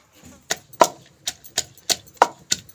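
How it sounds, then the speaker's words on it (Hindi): Spices are pounded by hand in a Pakistani village kitchen. About nine close, sharp thuds land in an uneven but steady rhythm. "मैं कुटन लगी जी मसाला"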